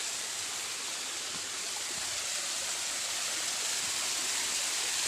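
A waterfall pours in a steady, even rush of falling water, heard from some distance at a low, unchanging level with no voices.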